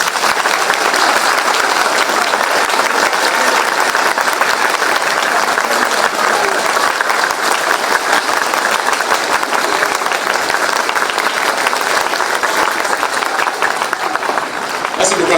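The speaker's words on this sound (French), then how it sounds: "Donc une minute d'applaudissement." A large crowd at a speech by a captain gives sustained applause in honour of combat forces fighting in the north, with dense, loud clapping running steadily throughout, voices mixed in.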